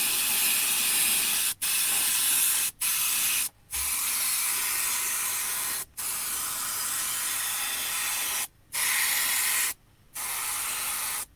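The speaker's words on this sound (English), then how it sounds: "I've got to make sure I spray around the outside, because the paint just naturally wants to run off." An Iwata airbrush sprays water-based paint onto an RC car body shell, a steady close hiss that comes in long bursts with short breaks between passes.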